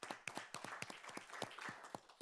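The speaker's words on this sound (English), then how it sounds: "Let's give HR a round of applause" Sparse, faint clapping from a small group at a board of trustees meeting, about a dozen distinct claps in quick irregular succession, quiet and close with no talking.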